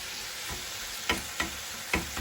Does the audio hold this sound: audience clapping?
no